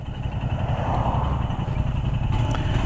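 A 2023 Royal Enfield Scram 411 with its 411cc single engine runs at a steady, low, throbbing idle, close and continuous with no talk.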